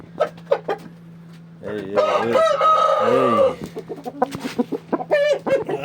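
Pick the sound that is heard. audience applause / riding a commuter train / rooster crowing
rooster crowing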